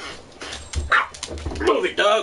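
Dog barks from a PS4 video game, several short yelps and woofs scattered through the clip, mixed with someone talking over them.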